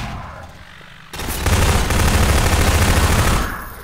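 Rapid automatic gunfire rattles in Half-Life 2, a loud, dense sustained burst starting abruptly about a second in and lasting over two seconds before fading, with no talking.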